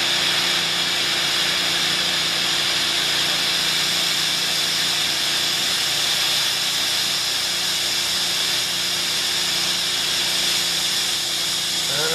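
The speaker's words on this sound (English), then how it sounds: "we have a National 3A running on propane and just one 5-liter concentrator" Constant bright hiss from a National 3A torch burning propane fed by a single 5-liter oxygen concentrator, a steady, loud roaring whoosh that stays even for about twelve seconds without talk.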